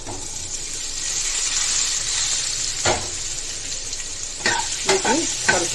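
Sweet potato pieces frying in a tempering of chilli, ginger, dried red chillies, curry leaves and asafoetida, a steady sizzle with a few scraping stirs toward the end and no talk.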